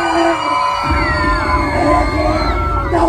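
A loud crowd at Six Flags New England screams, cheers and whoops before an amusement park ride, a sustained roar of many voices with children shouting throughout.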